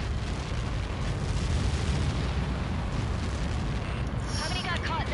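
Helios projectiles explode on impact in a holodeck combat program, a sustained, dense low rumbling roar that fills the clip, loud and continuous without distinct separate blasts.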